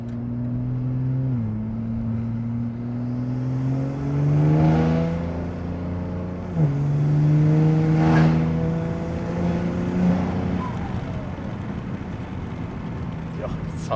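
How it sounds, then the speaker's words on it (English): Heard from the passenger seat of a modified BMW G80 M3, the loud intake and engine rev up in rising sweeps, with pitch drops at the gear shifts and a strong, close drone throughout. "The intake just sounds so good."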